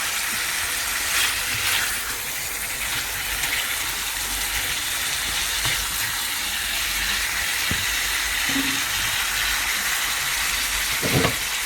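Boneless chicken fries in a covered pot on a home stove, giving a steady, even sizzle and hiss throughout, with a few faint clinks near the end.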